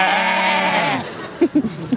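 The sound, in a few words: sheep bleating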